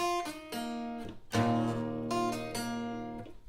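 Acoustic guitar notes picked one after another in a descending arpeggio from the top three strings down, then a fuller strum rings and more picked notes follow, clear and close.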